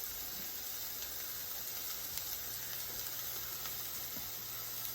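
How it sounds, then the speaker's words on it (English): Curry liquid simmers gently in a pot, giving a faint, steady bubbling hiss with soft scattered pops and no voices. "you basically just want to make sure that you still see a little bit of bubbling, but not too much."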